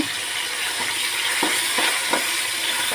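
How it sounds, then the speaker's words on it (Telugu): Ginger-garlic paste and coriander paste fry in a pan for vegetable rice, producing a continuous, even hiss of sizzling with a few soft stirring knocks. "పేస్టు అలాగే కొత్తిమీర పేస్ట్ ఇవన్నీ వేసి బాగా వేగనిద్దాము"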